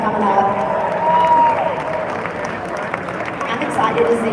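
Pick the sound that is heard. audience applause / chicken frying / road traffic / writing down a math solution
audience applause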